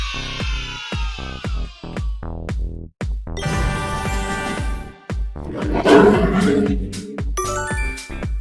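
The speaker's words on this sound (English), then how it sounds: "It's a lion." Lion roars rise out of a bouncy, repetitive backing tune of dings and chimes, with a couple of loud, rough bursts near the middle of a kids' guess-the-animal game.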